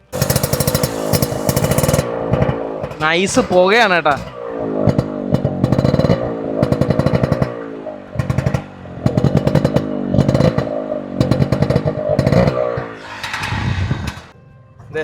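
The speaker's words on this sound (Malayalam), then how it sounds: "നമുക്ക് വണ്ടിയുടെ ആ ഒരു എക്സോസ്റ്റ് നോട്ടും കൂടെ ജസ്റ്റ് ഒന്ന് കേൾപ്പിച്ചു തരാം" An auto rickshaw engine runs with a loud, rattling exhaust note that revs up and down nearby, with someone talking over it at times.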